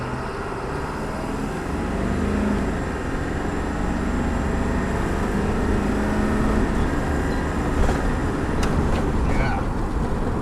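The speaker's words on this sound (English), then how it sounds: "I'm going to stomp on the gas so you can hear it cycle through the gears and you can hear the turbo" A 1998 Ford E-350 Wheeled Coach ambulance with a turbo engine under hard acceleration, a loud continuous roar building from inside the cab, with a faint whine and shift changes blending in and some talk over it.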